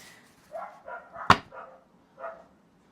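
A dog barks several times in short separate woofs, one sharp louder bark in the middle, moderately near in an otherwise quiet room.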